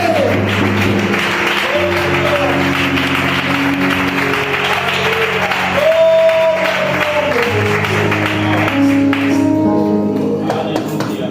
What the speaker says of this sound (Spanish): Fuertes aplausos para Él.